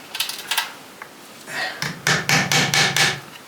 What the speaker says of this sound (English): all the lathes are now securely nailed to the timber